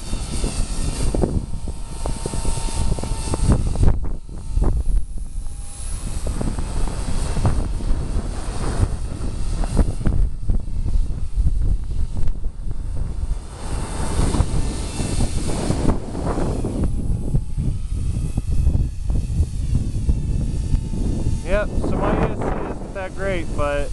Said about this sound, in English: Steady wind. I'm just fighting it.